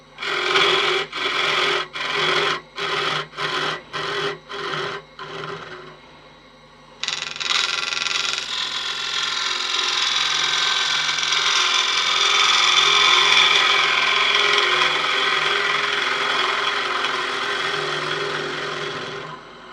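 A wooden box for rosary beads is shaped on a wood lathe: a tool bites the spinning wood in about eight short rhythmic scraping bursts, then settles into a long continuous rasping cut, loud and close.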